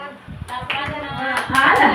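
A small group playing a 3-6-9 counting game claps in scattered, uneven bursts, a few close sharp claps at a time, mixed with voices talking over them.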